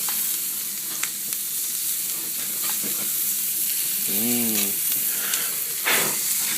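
Butter sizzles and hisses steadily while frying in a pan, a constant close crackle with faint clinks of stirring and a short pitched squeak partway through.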